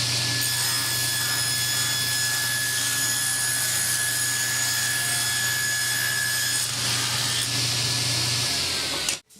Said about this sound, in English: Adjust the saw for a 1 inch cut to trim the spacers down.